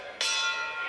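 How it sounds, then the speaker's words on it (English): A boxing ring bell rings once to end a bout, a sharp bright strike that rings on steadily with a long sustained metallic tone, close and clear over quiet arena ambience. "Bell sounds, that is it."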